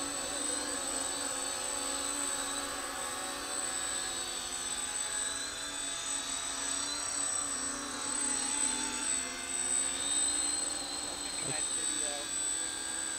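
A scale flying model of the XC-142 VTOL aircraft hovers and moves into slow forward flight. Its motors and propellers give a steady, high-pitched whine with several layered tones that rises and falls slightly, heard from a moderate distance.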